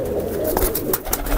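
Pearl-eyed highflyer pigeon being let go from a loft, with brief close wing flutters and soft cooing in a busy background.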